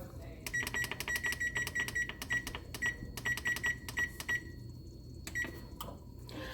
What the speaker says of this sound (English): I guess I should turn my oven on.